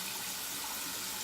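Running water rinses lather out of a shaving brush, a steady broadband hiss of tap flow, faint and continuous with no pauses and no voices.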